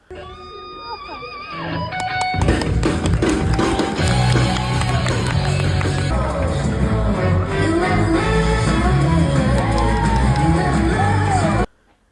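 An audience cheers, whoops and yells loudly after a short spoken intro, a sustained roar of crowd noise that holds for about ten seconds and then cuts off abruptly.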